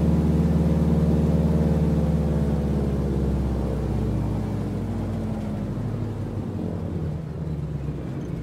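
A simulated T-6 Texan radial piston engine in Microsoft Flight Simulator settles back to idle near 450 RPM, a steady deep rumbling drone that gradually eases in pitch, with no talking.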